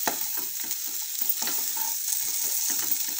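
Jeera aloo, potatoes with cumin seeds, being stirred in a hot pan: a steady sizzle of frying with repeated scraping strokes of the spoon, close and continuous, with no voices.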